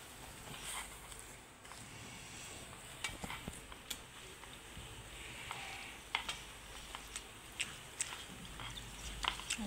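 Oiled besan dough being mixed by hand for masvadi, producing soft scraping, stirring and squelching sounds with scattered light clicks and taps, close and moderately quiet, with no talking.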